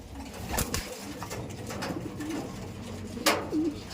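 Pet pigeons coo softly and repeatedly at close range while being fed crushed eggshell, with low throaty calls, a few sharp taps and rustles between them.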